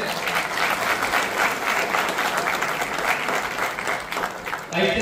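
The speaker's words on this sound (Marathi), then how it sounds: "सर्वांनी जोरदार टाळ्या वाजवायचे।" Loud, sustained applause from an audience at a Ganesh festival committee launch event in Satara, a continuous dense clatter lasting about five seconds before easing off at the end.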